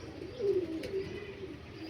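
Andhra breed pigeons coo softly, a low murmuring call that rises twice in quick succession, close by over faint background hiss with no talking.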